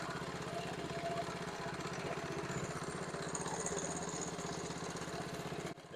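A neglected 1971 Honda CT70H, idle for over 15 years, runs with a faint, steady, rapid putter that holds evenly, then cuts out abruptly near the end.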